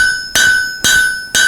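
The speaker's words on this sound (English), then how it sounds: "This is where you want to use the crossbeam hammer just to spread this guy left and right." Ringing steel hammer blows on a folded rasp axe being forged with a crossbeam hammer, three hard strikes about half a second apart, each leaving a bright metallic ring that decays before the next blow.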